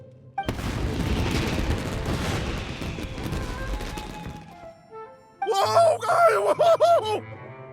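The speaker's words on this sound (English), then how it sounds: "Yoimiya, this is turning into a bit of a fireworks display" Fireworks explode in Genshin Impact, a dense run of crackling booms and bursts for about four seconds before trailing off, followed by a voice speaking briefly.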